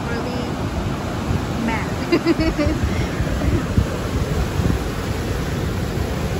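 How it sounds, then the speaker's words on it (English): Strong ocean waves surge onto a beach at night, a broad, rushing wash mixed with gusty wind buffeting the microphone, while people talk over it. "We are at the beach and the waves are really strong."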